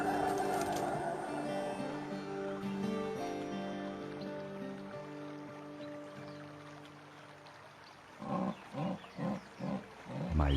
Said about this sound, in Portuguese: Outra onça fêmea está chamando por um macho.